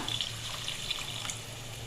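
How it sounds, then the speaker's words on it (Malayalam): Water splashes and trickles steadily into a cooking pan, a soft continuous pour with a faint low hum underneath. "ഒരു കാൽ ഗ്ലാസ് വെള്ളം ഒഴിച്ചു കൊടുക്കാം"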